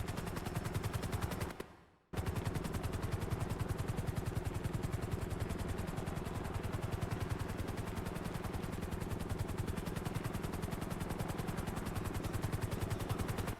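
Military helicopters fly overhead in a game, their rotors thudding in a rapid, steady chop that stays loud and near throughout, broken once by a brief dropout.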